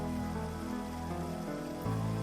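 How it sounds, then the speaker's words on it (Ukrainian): Autumn rain falls on city streets as a steady, dense hiss of drops on pavement, even and continuous throughout, with no voices. "а містом лунає мелодія дощу, яка зачаровує серце і душу"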